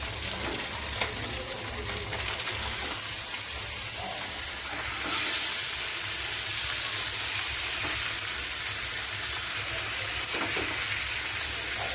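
Chicken pieces frying with onions and tomatoes in a pan give a steady, close, continuous sizzle and hiss, with occasional scraping stirs, no talking.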